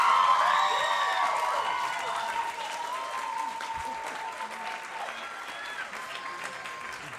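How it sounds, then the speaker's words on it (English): A live Q&A audience applauds steadily for several seconds after a finale, the dense clapping starting strong and slowly thinning, with some cheering and voices mixed in. "Can we just give a round of applause for Elena"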